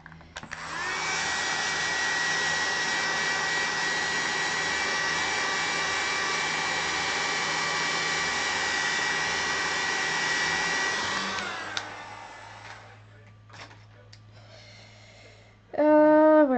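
Hair dryer blowing on wet metallic paint, a loud steady whirring drone running about eleven seconds close by before switching off, followed by faint handling noises and a brief rising whine near the end.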